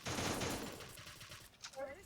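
Rapid bursts of gunfire from a shooting video game, loud and dense at first then thinning out, with chatter and brief voices mixed in near the end.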